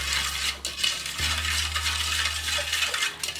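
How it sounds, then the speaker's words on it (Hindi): A balloon whisk stirs milk and sugar in a bowl, giving a steady light swishing with faint metallic ticks, close and continuous. "बलून स्पून है, इससे हम मिक्स करेंगे धीरे धीरे।"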